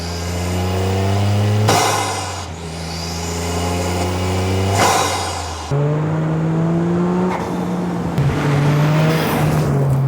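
Toyota GR Corolla fitted with a carbon fiber intake, its engine revving loud and close, rising and dropping through several sharp throttle sweeps with brief breaks between pulls and no talking.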